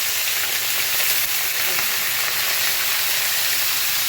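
Chicken pieces fry loudly in hot oil in a pot for Saudi kabsa, a dense, continuous close-up sizzle and hiss with no breaks.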